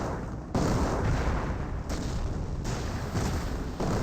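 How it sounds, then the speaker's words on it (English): Artillery barrage in Company of Heroes, a World War II strategy game: dense, continuous rumbling booms and blasts that roll into each other, with short dips between heavy volleys. "Now I got registered artillery right here."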